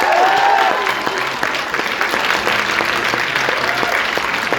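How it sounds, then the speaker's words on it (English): A theater audience at a Paris Q&A with the Russo brothers applauds to vote for Endgame. The dense clapping is loud and sustained, with a few whoops and crowd murmur mixed in, and it holds at an even level. "Who liked Endgame better than Infinity War?"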